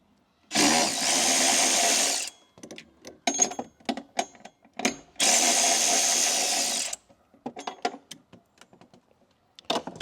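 A long extension on a socket wrench is used to loosen the battery bolts on a BMW X7. Two sustained bursts of spinning and whirring sound up close, each followed by loose clicks, rattles and small metallic knocks.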